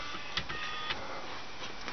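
A homemade mini desktop plotter built from CD and floppy drives runs its print-last-file function, giving a steady whirring motor hum with a few faint clicks, close and continuous without speech.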